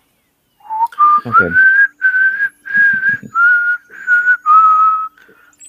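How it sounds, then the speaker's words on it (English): A person whistles a wavering tune in a nearby corridor, a clear run of sustained notes with short breaks, fairly close, and a brief spoken word at the start. "Can hear someone whistling in a nearby corridor."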